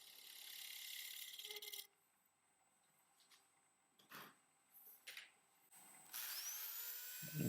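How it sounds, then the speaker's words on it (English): Woodturning lathe with a tool taking light cuts off a turned firewood piece, a faint scraping hiss in short bursts separated by near-silent gaps. "make really light cuts to remove that nub"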